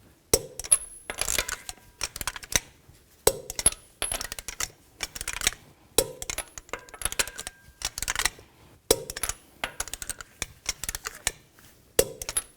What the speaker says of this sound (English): Now I'm going to torque these lug nuts in a cross pattern to 80 foot-pounds to tighten the wheel down